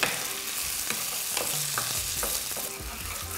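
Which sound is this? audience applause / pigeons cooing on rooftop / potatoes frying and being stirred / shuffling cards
potatoes frying and being stirred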